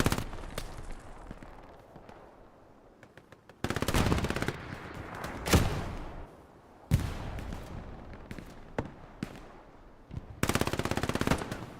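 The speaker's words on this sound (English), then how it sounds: "Shots in from the right." Dense automatic gunfire in the World War II shooter Hell Let Loose during a large 49-versus-49 match, with sustained rapid bursts, loud close volleys and sharp single shots over continuous background battle noise.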